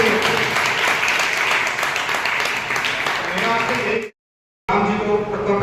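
Audience applause at a state darts championship in Mathura greets an arriving guest, a steady broad clatter of many hands that cuts off abruptly for a moment and then resumes at full strength.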